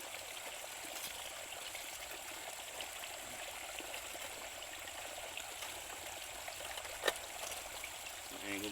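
Water pouring steadily into a Gold Fox Mini Monster sluice during gold prospecting, a faint continuous trickling rush with one brief knock, heard at a distance under quiet outdoor ambience.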